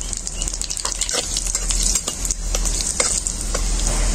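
Dry red chillies and nigella seeds sizzle in hot mustard oil, a bright, continuous crackling fry with small pops and stirring scrapes, close and steady throughout.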